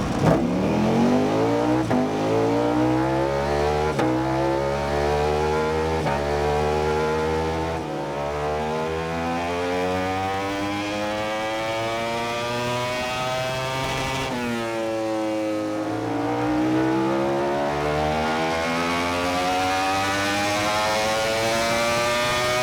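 A Ducati Panigale V4 R motorcycle with a 1103cc V4 engine revs hard on a dyno, climbing repeatedly through the range in long rising pulls and dropping back, loud and close with no talk.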